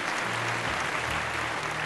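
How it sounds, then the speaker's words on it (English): Steady applause fills a large event hall at an evening conference, dense clapping from a big audience sustained throughout without any voices. "may I request for a big round of applause for you guys and for the Biz Divas team here"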